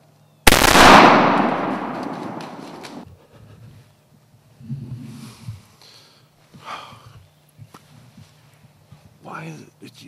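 A single muzzleloader rifle shot rings out loud and close during a deer hunt, a sharp blast with a long reverberating decay over about two seconds, followed by quiet rustling and low murmured voices.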